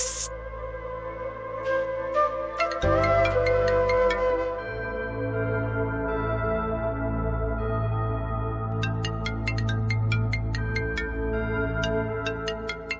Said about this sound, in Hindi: वासे का फोन बज रहा है।